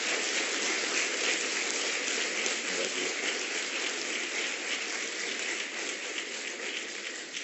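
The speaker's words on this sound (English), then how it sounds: "giving them a warm round of applause. A very warm, loud round of applause" Sustained, dense applause from a large crowd at a university convocation ceremony, steady and loud throughout with no pauses, like many hands clapping at once in a big hall.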